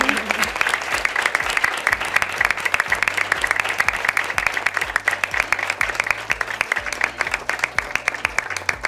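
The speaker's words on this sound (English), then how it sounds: "have a big, big round of applause to them" A large audience applauds steadily throughout, a dense, even wash of clapping with occasional voices mixed in.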